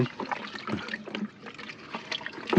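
Water splashes and trickles unevenly as small fish fry are scooped and transferred into fresh water, a close, irregular pouring with faint bubbling and no talk.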